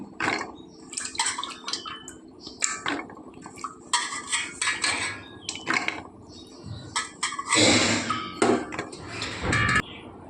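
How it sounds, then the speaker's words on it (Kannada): Soaked chickpeas go into a pressure cooker in a home kitchen, with repeated close metallic clatters and clinks of pots and utensils, bursts of pouring and splashing water, and brief quiet gaps between the clanks. "ಈಗ ನಾನು ಕುಕ್ಕರಿಗೆ ಹಾಕ್ತಾಯಿದ್ದೇನೆ."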